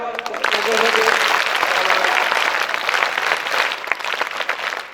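Audience at a school gathering breaks into sustained applause, many hands clapping steadily and loudly across the whole stretch, with a few brief voices faintly mixed in.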